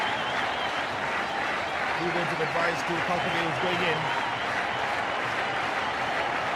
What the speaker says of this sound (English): And good round of applause from the spectators.